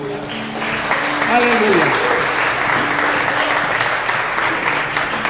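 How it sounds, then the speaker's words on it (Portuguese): Loud, sustained applause from a church congregation, a dense wash of clapping that fills the whole stretch, with a voice speaking over it and a sung or called-out exclamation near the start. "nós Te damos juntos, Senhor, uma salva de palmas bem forte"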